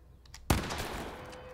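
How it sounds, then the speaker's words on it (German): A single gunshot fired at bottles in the video game The Quarry, one sharp loud crack followed by a fading tail, with no voices. "Schöner Schuss."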